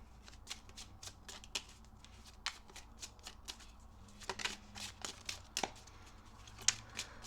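Deck of playing cards being shuffled close up, a quiet run of crisp riffling flutters and soft taps repeating unevenly in an otherwise still room.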